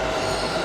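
A metro train at a station in India, heard as a steady, loud rumble of rail cars and wheels with no voices, lasting under a second.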